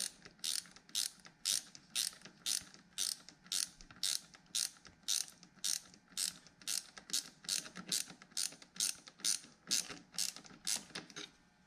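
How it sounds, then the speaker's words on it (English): A ratchet wrench tightens a battery terminal nut on a Harley motorcycle, a steady run of about twenty quick, close clicking strokes at an even rhythm, faint and with no talking. "use your ratchet wrench or whatever you're using and tighten it up the rest of the way"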